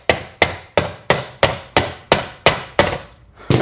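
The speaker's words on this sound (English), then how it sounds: "we're gonna smack the back side here without hitting the edges and knock it down in there so we can get that out" Hammer knocking a wheel bearing hub out of a 2009 Subaru Forester: about ten sharp metallic blows at an even, brisk rhythm, close and loud, with no talk.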